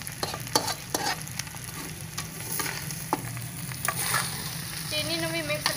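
A spoon slowly stirring ghee-coated rice with sugar in a hot pot for sweet zarda rice, with soft scrapes and clicks over a low sizzle.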